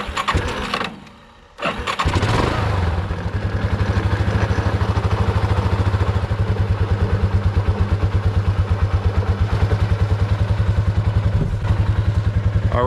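A homestead machine's engine cranks, catches and settles into a steady, close, loud idle with an even pulsing beat that continues without any voices.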